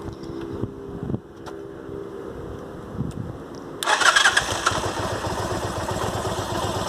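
A Yamaha Virago 250cc motorcycle with a side carburetor cranks with a few starter whirs, then catches and settles into a steady, rumbling idle nearby.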